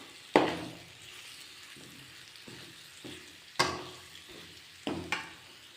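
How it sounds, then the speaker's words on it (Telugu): Sambar powder and salt being fried in a pan for chukka kura (sorrel) rice, a soft steady sizzle broken by a few sharp clinks and scrapes of a spoon stirring. "వేయించుకోవాలి"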